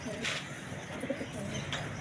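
A racing pigeon coos in a soft, repeated rhythm at close range, with a few faint chirps and some low background noise around it.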